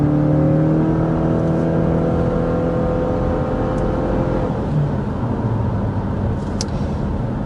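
Hybrid SUV with an eCVT accelerating, a steady engine drone and whir holding even pitch with gently rising tones, continuous and fairly loud from inside the cabin with no talk.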